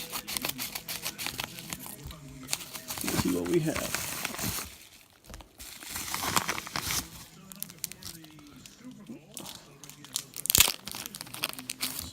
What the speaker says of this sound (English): I just have my baseball trusty scissors with me.